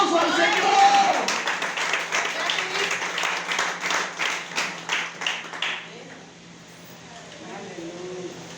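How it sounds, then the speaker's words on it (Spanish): A church congregation applauds during a pastor's sermon, with rhythmic, unison-leaning claps that build and pulse for several seconds before fading to quiet, with a voice audible near the start and end. "Dale el aplauso al Señor"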